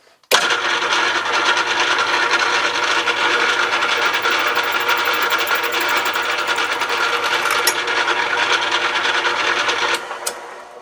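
A drill bores holes in a folding slip-joint knife part held tight in place, a steady high whirring grind that starts abruptly, runs evenly for about ten seconds, then cuts off.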